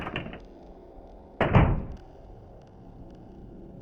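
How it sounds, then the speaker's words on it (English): An exit door is heard once, a single solid thunk as it swings shut, close and distinct against a quiet background with a faint earlier rattle. "heard the exit door opening and closing"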